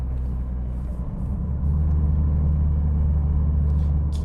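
A Renault Sandero RS fitted with a cold air intake and exhaust drones loudly at high RPM, a deep, steady rumble heard from inside the car that swells and stays louder after the first second and a half.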